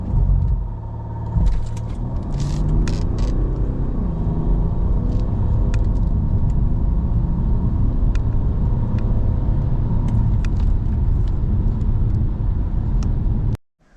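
A Mercedes-Benz S-Class S 320 CDI (W221) diesel sedan accelerates hard, its engine giving a steady, loud, low rumble that builds continuously from inside the cabin, with a few faint clicks over it, until it cuts off abruptly at the end.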